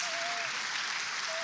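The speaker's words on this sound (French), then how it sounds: "Oui, vous pouvez applaudir, oui." A French audience at a talk by actress and author Anny Duperey applauds in a continuous, even wash of clapping, a brief tonal whistle or hum threading faintly beneath it.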